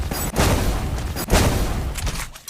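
A dual-wielded shotgun fires in the Free Fire mobile game. Two loud, heavy blasts land about a second apart, and a third fainter shot may follow near the end.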